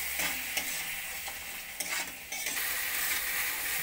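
Spices for ghugni, mixed with water, salt and a little sugar, fry and sizzle steadily in a pan, a continuous close hiss broken by a few stirring scrapes and knocks.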